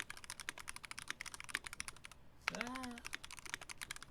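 Rapid, close-up keystrokes on a Tofu60 mechanical keyboard fitted with Burger Mount O-rings, softened clacks running steadily with one brief pause and a short vocal exclamation over the typing.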